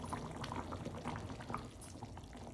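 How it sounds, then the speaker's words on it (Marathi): Fish curry made with buttermilk simmering in a pot on a low gas flame, a faint, steady bubbling and soft liquid churning with small pops throughout. "कढीला उकळी आलेली आहे"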